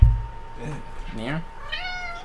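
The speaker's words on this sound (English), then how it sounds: "It's a cat." A cat meows several times in quick succession with rising, tonal cries, heard close over a steady background hum during online gaming.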